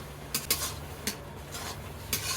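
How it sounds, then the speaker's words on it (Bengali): Taro and prawn malai curry stirred in a pot, a spoon scraping and clinking against the base in several short, separate strokes over a low, steady background hum. "এবারে ঘন ঘন একটু নেড়ে দিতে হবে যাতে এই তলায় লেগে না যায়"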